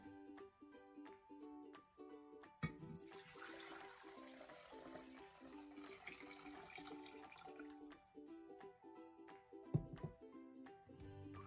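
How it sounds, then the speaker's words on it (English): Water pours and splashes steadily into a vase for several seconds in a quiet room, with a few soft knocks at the start and end. "our next step is adding our water to the vase."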